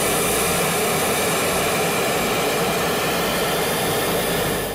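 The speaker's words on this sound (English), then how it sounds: "It's not even the engine that makes that noise, it's the auxiliary power unit." A loud, steady high-pitched whine and roar from the auxiliary power unit of a Tupolev Tu-134 or Tu-144 airliner runs continuously, then begins to fade at the very end.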